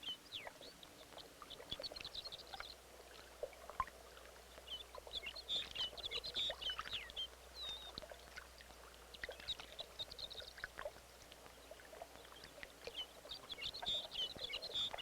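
Arctic loons feeding their young out on open water, with scattered faint bird chirps and calls over soft water sounds, all distant and quiet with no voices.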